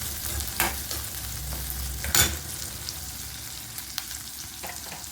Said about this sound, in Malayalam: വറുത്ത് വെച്ചിരുന്ന മല്ലിയാണ് ഇത് നമുക്ക് ചേർത്ത് കൊടുക്കാം അപ്പോൾ നമുക്ക് ഇളക്കി വെച്ചിരിക്കാം